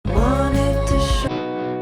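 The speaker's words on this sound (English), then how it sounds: "I added some distortion to some of the chords." Sustained distorted chords ring out loud and thick, a gritty harmonic wash that shifts chord twice before changing tone near the end.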